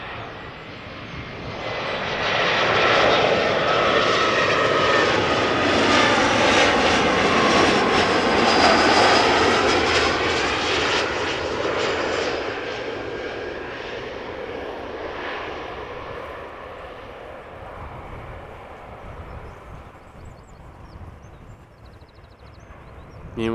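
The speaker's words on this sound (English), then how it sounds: "arriving now is an Embraer 175 from KLM, arriving from Hamburg in Germany" A KLM Embraer 175 jet arriving on the runway at Amsterdam Schiphol roars in loud and near, a broad engine rush that swells, peaks mid-pass and slowly fades into a lingering rumble.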